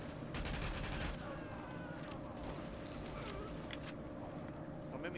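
An RPK machine gun fires in a video game set in New York City, with rapid bursts of gunfire fairly faint in the mix alongside other game sounds and a voice.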